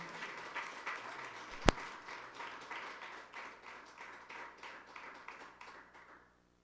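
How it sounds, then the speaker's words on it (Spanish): A church congregation applauds for the Lord in a long, moderately distant run of clapping. It holds for several seconds with one sharp loud clap standing out, then fades and stops. "Denle un aplauso al Señor"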